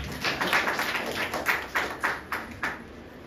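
Congregation at a church service clapping in a steady rhythm, about eight sharp claps spaced roughly every third of a second to half second, moderately loud over a background murmur.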